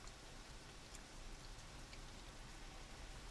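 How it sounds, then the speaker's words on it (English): Steady rain falling in Florida, a dense even hiss of drops on surfaces that fills the whole stretch with no breaks, close and fairly loud, with no voices. "Wow, this rain is awesome."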